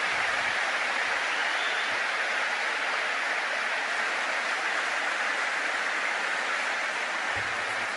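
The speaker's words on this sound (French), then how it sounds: "Vous pouvez applaudir en présent." Steady, dense applause from a lecture audience fills the room evenly for the whole stretch, a continuous wash of clapping with no gaps.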